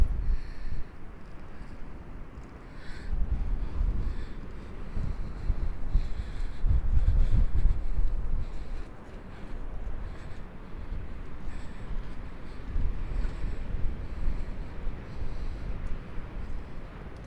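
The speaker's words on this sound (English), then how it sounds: "Super windy." Strong wind on the ocean boardwalk at Ocean City, Maryland buffets the microphone in heavy rumbling gusts that rise and fall for a long stretch, with no one speaking.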